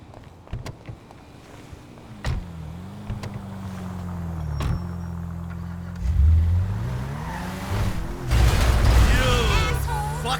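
Car driving in GTA V, engine droning steadily with rising revs and tire skids, louder bursts of acceleration near the end, with a few short thumps and brief game voices.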